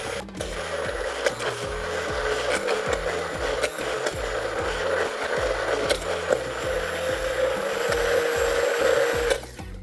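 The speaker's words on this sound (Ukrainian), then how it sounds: "туди і ще раз його обробимо блендером" A blender mixing mayonnaise runs steadily in the foreground, its motor whirring with a rhythmic, pulsing churn, continuous for about ten seconds with no talk.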